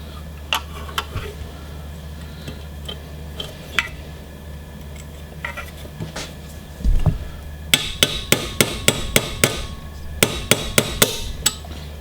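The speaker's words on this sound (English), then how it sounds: "Now you see I'm using a brass hammer." Brass hammer tapping a steel pin on an SKS rifle: sharp metallic taps, scattered at first, then a quick run of evenly spaced close strikes near the end, over a low background hum.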